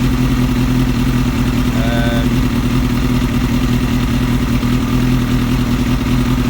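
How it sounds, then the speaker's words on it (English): A cold Kawasaki ZX7R motorcycle engine idles steadily with the choke off in a low, even rumble, with a brief faint whine partway through. "Turn the choke off. It's idling alright."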